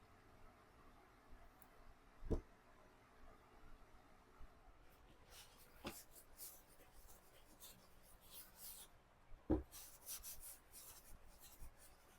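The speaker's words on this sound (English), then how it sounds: "I'm just going to take my finger and try to keep it on the transfer." A fingertip rubs clear wax over a transfer on an old window, making soft, close, intermittent rubbing strokes with a few sharper taps among quiet gaps.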